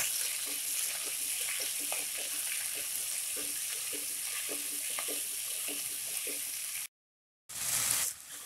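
Coarsely cut cabbage and vegetables sautéing in a pan for veg tahari, a steady hissing fry with soft rhythmic stirring taps, then a brief drop to silence before the sizzle returns.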